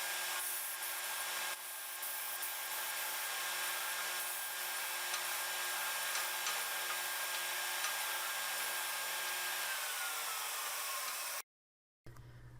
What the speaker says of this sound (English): I then sand the inserts flush to the wood block on the edge sander